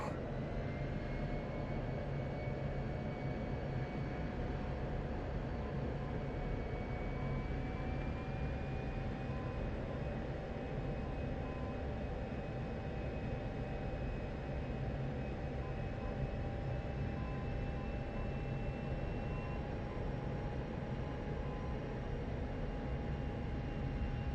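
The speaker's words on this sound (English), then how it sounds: "Speed brake comes out, throttles to idle." F-16C jet in the DCS flight simulator with its speed brake extended and throttles at idle, a steady, even engine roar with a faint high whine running continuously throughout, no voices.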